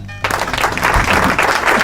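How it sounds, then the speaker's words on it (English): Applause from a church audience at a Mother's Day program, a dense burst of clapping that starts abruptly and carries steadily to the end. "Give myself applause on that one."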